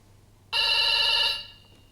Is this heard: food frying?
no